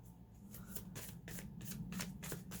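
A tarot card deck is shuffled by hand with some difficulty, a series of soft, uneven riffling and flapping bursts repeating every fraction of a second, close and fairly quiet over a low background hum.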